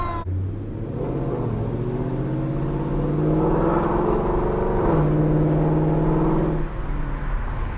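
Corsa Xtreme catback exhaust on an S550 Mustang GT 5.0 V8, heard from inside the car in traffic: a steady deep burble and drone that swells as the engine revs, then settles back.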